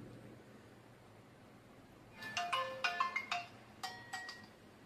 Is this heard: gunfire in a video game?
no